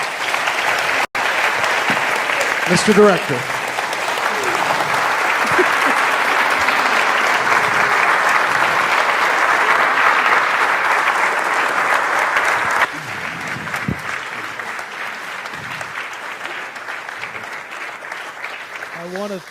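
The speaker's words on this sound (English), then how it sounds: "And let's give them one big round of applause." An audience at a legislative forum applauds a panel with a full, sustained round of clapping. A speaker talks over it, and the applause thins toward the end.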